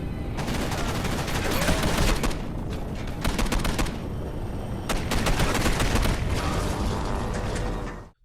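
Rapid bursts of automatic gunfire and mechanical clatter fill a shootout with SWAT in the video game Condemned, loud and dense, with brief lulls between volleys of shots.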